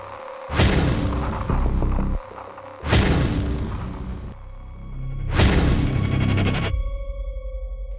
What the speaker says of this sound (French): Quelque chose frappait contre le plancher de la chambre, juste au-dessus de ma tête